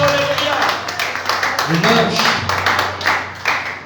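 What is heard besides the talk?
congregation applauding in church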